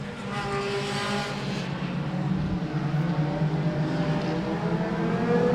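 Race cars at Claremont Motorsports Park roar past at speed in a close pack, engines revving and shifting pitch as they race, loud and continuous with no speech.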